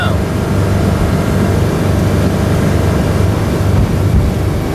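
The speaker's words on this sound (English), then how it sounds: "The engine noise is quite normal." A 2006 Bayliner 175 motorboat engine drones loudly and steadily at about 3,000 RPM, a constant low rumble mixed with rushing water and wind noise.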